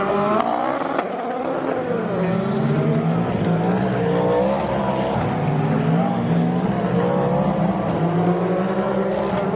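Toyota race car braking into a curve on a circuit, its engine note dropping and rising through downshifts, loud and sustained throughout, with no talk over it.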